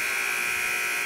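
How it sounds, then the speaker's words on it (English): The game-end buzzer sounds at a women's college basketball game between Casper College and CWC, a loud, steady electronic drone that holds through to the end. "And there is the buzzer."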